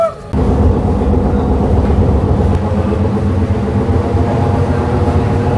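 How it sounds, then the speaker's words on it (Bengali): Loud, steady rumbling of an AC local train rolling into Ranaghat station, a continuous heavy drone with no talking. "আমাদের ট্রেন ঢুকছে রানাঘাটে"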